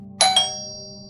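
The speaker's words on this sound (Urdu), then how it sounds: "پچھلے سال ایک روز شام کے وقت دروازے کی گھنٹی بجی۔" A doorbell chimes twice in quick succession, bright ringing tones that fade slowly over a low steady hum.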